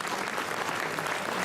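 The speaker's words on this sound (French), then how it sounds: "Veuillez applaudir comme il se doit le représentant du motoclub angérien" Audience applause for the winning rider of a motocross-style enduro event, dense steady clapping throughout, moderately loud with no voices on top.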